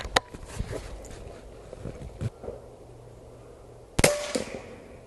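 Umarex Origin .25 airgun shot outdoors, two sharp cracks a few seconds apart, the second louder and followed by a brief ring, with faint handling noises between.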